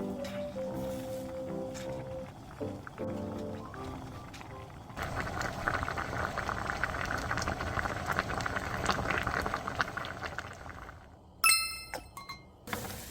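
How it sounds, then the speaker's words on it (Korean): A pot of Korean soup with zucchini, onion and tofu comes to a boil, giving a steady, fairly loud bubbling hiss through the middle stretch, followed by a few sharp clinks near the end. "한 번 더 끓여주면 돼요"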